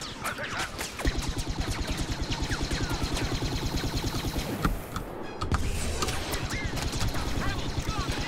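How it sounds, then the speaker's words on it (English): Rapid repeated ion gun fire from Star Wars Battlefront gameplay, a steady stream of mechanical energy-weapon shots running nearly throughout with a brief pause midway, loud and up front. "I can switch to, like an ion gun, I guess? Is that what this is?"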